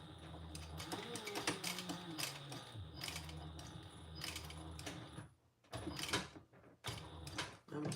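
A sewing machine runs in quick mechanical bursts of stitching while sewing a curved seam on a fabric Traveler pouch. The whirring starts and stops repeatedly at close range, with a brief quiet gap partway through.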